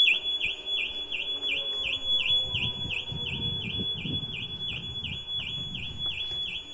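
A car alarm in a garage beeps in a fast, steady, high-pitched repeating pattern throughout, with low rumbling background noise beneath it.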